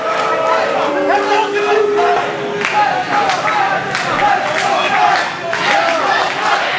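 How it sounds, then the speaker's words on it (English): A crowd at a wrestling event in Staten Island cheers and shouts in loud rolling bursts, with scattered claps and yells filling the arena while a commentator talks over it. "this crowd here in Staten Island seemingly trying to fire up Datello"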